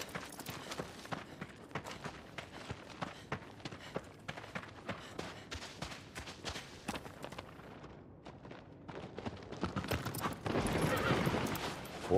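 Horse hooves clatter in the video game Shadow of the Colossus, a quick, irregular series of thuds and clip-clops, fairly faint, swelling into a louder rushing burst near the end.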